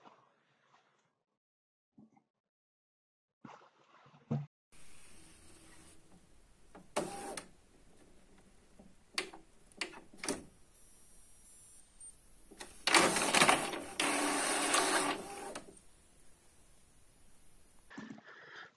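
A printer runs a page sent from a Raspberry Pi CUPS print server, with short mechanical whirs and clicks building into a louder, sustained feed-and-print rumble near the end, heard alone at close range.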